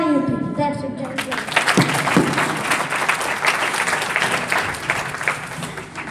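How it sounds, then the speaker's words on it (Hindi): An audience claps loudly and continuously at a Republic Day 2021 stage event, dense sustained applause filling the space after a brief opening sound, with no talk over it. "आप अपनी तालियों के साथ हमारा उत्साह बढ़ाएं और अपनी तालियां ना रोकें"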